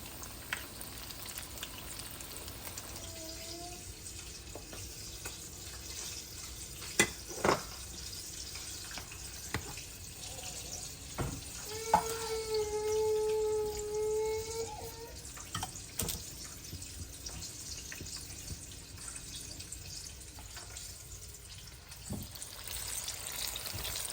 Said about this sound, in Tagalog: Then iprito na natin mga ka-food trip.